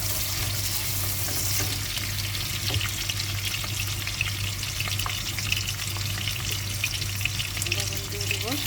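Chicken frying in a pan on a home stove, a steady close sizzle with occasional stirring clatter throughout, no talk.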